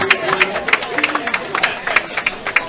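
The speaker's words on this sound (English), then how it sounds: "The crowd goes wild." A crowd at a women's doubles pickleball match at the Beer City Open claps and cheers, with rhythmic sharp claps and whoops close by and voices chattering underneath.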